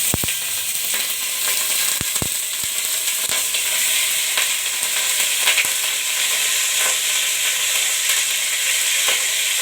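Chicken pieces sizzling in a hot pan with pepper and black peppercorns for chicken kurma, a steady loud frying hiss with occasional sharp crackles and stirring clicks throughout.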